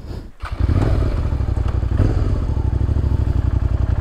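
A motorcycle runs laps on a Moto Gymkhana course, its engine rising from near-quiet into a loud, steady, throbbing drone that holds close and continuous to the end.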